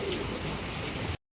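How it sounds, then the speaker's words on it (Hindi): Pigeons pecking at scattered grain, a dense patter of quick small taps and rustles close by, with a soft coo, continuous for about a second before cutting off abruptly. "माशाल्लाह कबूतर दाना खा रहे भाई"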